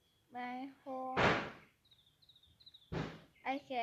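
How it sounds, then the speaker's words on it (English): In the Roblox game Brookhaven, a door closes and locks with two sharp broadband thuds. Tonal, voice-like game sounds and soft clicks come before and between the thuds. "I locked the doors."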